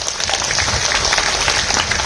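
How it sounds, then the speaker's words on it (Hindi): Loud, dense applause from a gathered crowd at a happiness programme session, many hands clapping vigorously and evenly for the whole stretch. "ताली बजा दो जोरदार।"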